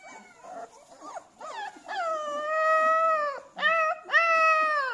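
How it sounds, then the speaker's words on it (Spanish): Puppies howl up close in a series of long, wavering howls that rise and hold, with short whimpering yips between them and no talk over the top. "mirar cómo aúlla este"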